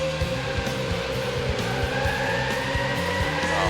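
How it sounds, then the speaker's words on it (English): A race car in the PS1 game CART World Series spins out, its engine droning steadily with rhythmic pulsing revs and tire noise, loud and continuous throughout. "Oh man, spun out."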